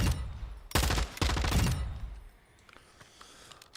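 Light machine gun in Modern Warfare 2 firing two loud, close short bursts of rapid shots, then a quieter stretch of faint distant gunfire and room tone.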